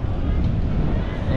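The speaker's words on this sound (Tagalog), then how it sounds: "Grabe sarap dito, ang lakas ng hangin." Strong wind buffets the microphone on a Binondo–Intramuros bridge in Manila, a loud continuous rumbling gust, with a voice talking over it.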